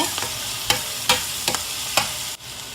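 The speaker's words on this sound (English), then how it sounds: "we'll saute this for another minute or so" Onions and garlic sauté in a pot for a salmon fish stew, a steady sizzle broken by about five sharp scrapes of a spoon stirring at a regular pace, close up and without voices.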